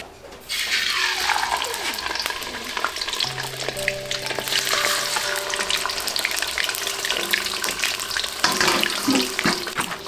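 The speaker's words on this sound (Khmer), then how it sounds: "ឥឡូវខ្ញុំយកត្រីក្រហមទៅបំពងសិនឥឡូវតេះក្តៅចាក់ប្រេងឆាចូល" Red fish fries in hot oil, a loud, steady sizzle running throughout with crackling bursts and some stirring clatter, close up and with no talking.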